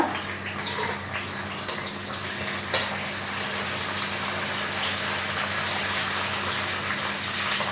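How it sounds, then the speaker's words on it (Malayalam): Chopped garlic fries in hot oil over a high flame, a steady loud sizzling hiss that carries on throughout, with a few sharp crackles early on. "ഹൈ ഫ്ലെയിമിൽ വയ്ക്കുക ഇതിലേക്ക് ഫസ്റ്റ് നമ്മൾ നമ്മുടെ വെളുത്തുള്ളി ചെറുതായിട്ട് അരിഞ്ഞ് വെച്ചിരിക്കുന്ന ഇടുക"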